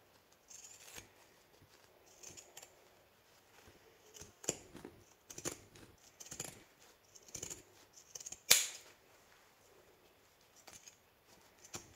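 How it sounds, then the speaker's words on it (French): Quiet, intermittent snipping of pinking shears through fabric, soft crunchy cuts in irregular bursts with one sharper click, no voices. "Avec mes ciseaux cranteurs, je vais venir juste dégarnir tout le tour"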